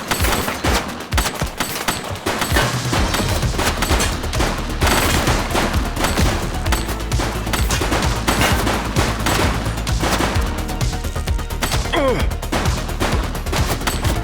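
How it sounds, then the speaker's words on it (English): Gunfire rattles through a police shootout in the video game The Precinct, dense bursts of shots and automatic fire running nearly continuously and loud over busy background game sound. "Shots fired!"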